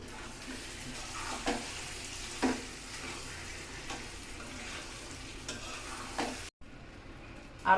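Beef kala bhuna is stirred in a frying pan: a constant, soft sizzle with repeated scraping and tapping strokes, fairly quiet and without talk.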